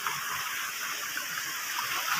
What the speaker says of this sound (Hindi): ये इधर पानी बह रहा